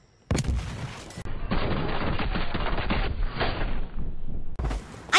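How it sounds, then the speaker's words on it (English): Video game gunfire in a Cyberpunk match, a dense, loud burst of rapid shots running for several seconds after a sharp opening blast, with a final crack at the end. "someone else spawned behind me and shot me from behind"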